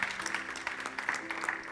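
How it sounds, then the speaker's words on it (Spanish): Standing congregation at a Spanish-language church service clapping loudly, a short burst of continuous applause with faint sustained tones beneath. "Dele un fuerte aplauso al Señor."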